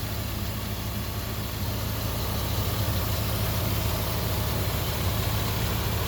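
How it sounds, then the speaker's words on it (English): A Mercury Monarch's smooth engine idles steadily, a constant low drone with a faint mechanical hum and no variation in pace, no talking. "Really smooth engine."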